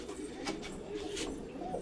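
A pink-tinged pigeon, lost for two days and now held in hand, gives soft, steady cooing close by with faint rustling throughout.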